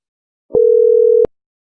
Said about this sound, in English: And when we make this phone call,